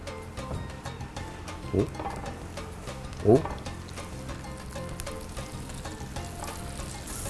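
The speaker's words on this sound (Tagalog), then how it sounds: "Ilalagay natin ang ating calamari. So, nandiyan na. Pa-fried na natin." Calamari drop into hot oil and fry with a crackling sizzle, two sharper splashy bursts standing out over a low steady bubbling, while a cook talks over it.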